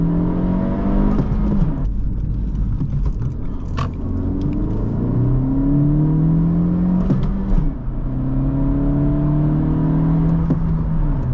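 A 2023 Honda Civic Si accelerates hard from inside the cabin. The loud engine note rises through the gears in repeated climbing sweeps, each dropping back briefly at the shift, over steady road rumble.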